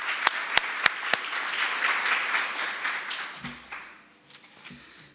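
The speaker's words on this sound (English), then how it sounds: "One more round of applause." An audience at a corporate panel event claps in a full round of applause that starts loud and dense, then thins out and fades over a few seconds.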